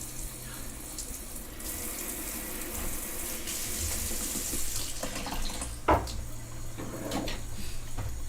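Tap water pours steadily from a faucet to fill a cat's water bowl, a continuous hissing stream with a brief clunk near the end as the flow shifts, close and moderately quiet.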